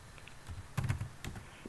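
Quiet, close typing on a computer keyboard: a few scattered soft key taps, then a quicker cluster of clicks, with no voices.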